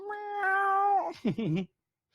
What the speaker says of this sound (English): I hear enough of that meow from my cat.